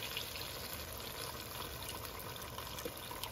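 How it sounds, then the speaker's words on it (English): Broth poured over beef in a stew pot, a steady, even wash of liquid running through the whole stretch at moderate level, without talk. "now we put broth in. Just enough to cover all the meat."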